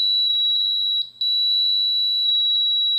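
A fire alarm system's smoke detector buzzer sounds a steady, piercing high-pitched tone, loud and continuous with one brief dropout about a second in, alone without voices.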